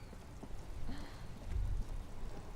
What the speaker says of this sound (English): rain falls on the great city of Rivershore